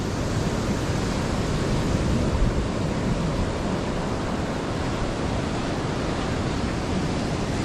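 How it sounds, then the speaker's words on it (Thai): Evening sea waves roll onto the shore at Koh Lanta, a dense, steady roaring wash of surf with no breaks, loud and close, with no voices present. "คลิปแรกก็จะเป็นทะเลช่วงเย็นนะคะ"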